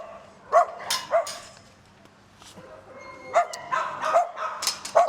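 Dogs bark in short, loud bursts at the Soi Dog shelter in Phuket, Thailand, several rapid yips and barks clustering at the start and again near the end with quieter gaps between.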